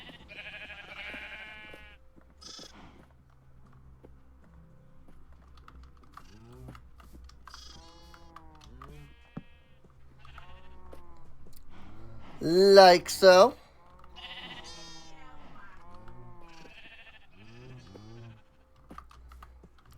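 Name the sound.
sheep bleating in video game Minecraft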